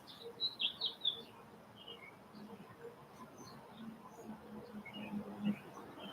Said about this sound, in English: There's a lot of beautiful birds in the yard.